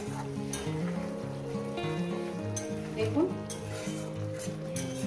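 Taro and potato being sautéed with spices in a pan, a steady sizzle with a few clattering stirs, heard beneath a sustained tonal voice-like or musical background layer.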